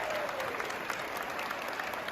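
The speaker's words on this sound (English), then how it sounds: "It was so encouraging to hear the applause they received from their colleagues" Teachers at a district meeting applaud together, a steady, dense wash of many hands clapping continuously at moderate volume, with no voices standing out.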